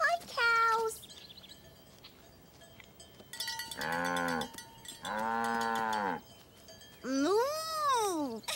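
Several drawn-out cow moos on a farm, close and loud, with clanking cowbells and a brief higher cry in the background; the calls come one after another with pauses between.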